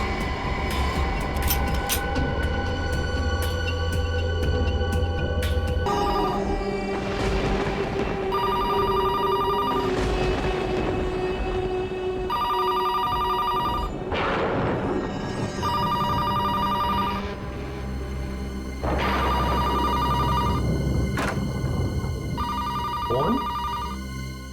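An old-style telephone bell rings in repeated bursts with pauses between, over a constant low mechanical rumble.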